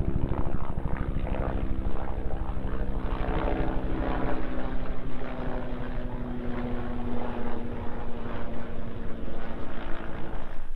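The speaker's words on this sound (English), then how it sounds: "Seeing some military helicopters flying over this morning." Military helicopters pass overhead on a morning above a lawn, a loud, steady droning rotor and engine roar that holds constant throughout with no talking.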